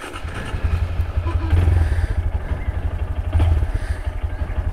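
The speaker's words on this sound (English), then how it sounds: "All right, let's turn this thing on." A 2022 Honda Grom motorcycle engine starts up close by, then settles into a loud, pulsing idle with a couple of short throttle blips.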